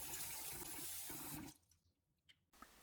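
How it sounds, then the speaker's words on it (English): Rice being washed in water in a bowl: a soft, steady swishing and pouring of water for about a second and a half, then it stops, with a few faint drips and splashes after. "Then we'll need to wash the rice."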